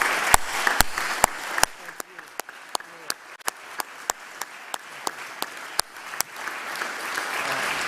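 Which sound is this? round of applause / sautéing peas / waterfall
round of applause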